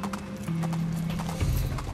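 Horse hooves clip-clop in a quick, steady trotting rhythm, close and clear, with a brief whinny-like tone in the background, from a horse in a Skylanders Imaginators video game.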